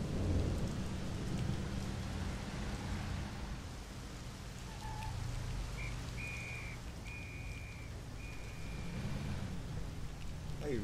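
Steady night rain pours down in Mafia: The City of Lost Heaven, with low rumbling thunder rolling under the hiss and a few faint game tones.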